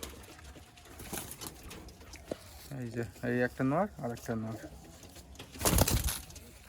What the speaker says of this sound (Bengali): খুব সুন্দর মালবাই পায়রা